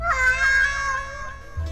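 A stray street cat gives a single drawn-out meow, close and clear, with a low steady hum underneath.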